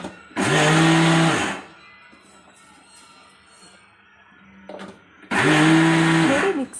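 A kitchen mixer grinder whirs through two loud bursts, grinding broken rice with cumin and pepper, with a quieter pause between the runs.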